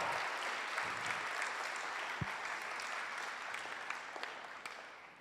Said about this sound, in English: Oh yeah, you can clap for that.